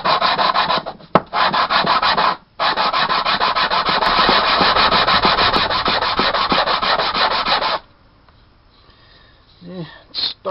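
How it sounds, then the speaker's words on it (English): A whetstone being redressed, rubbed flat against a flat surface in steady, continuous back-and-forth grinding strokes, close and loud, with a short pause before the rubbing stops near the end. "find you a nice flat surface to work on. And just start rubbing away on her."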